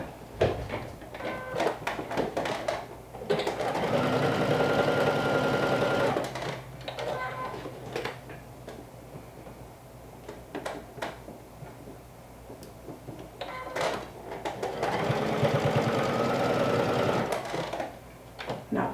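A sewing machine stitches the seams of a dress in two long, steady runs of rapid mechanical chatter, separated by quieter handling and clicks.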